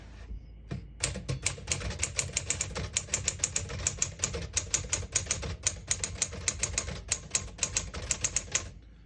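Rapid mechanical clacking of the keys of a 1964 Smith-Corona Sterling manual portable typewriter, struck in quick irregular bursts with sharp metallic snaps, close and loud, with no voices.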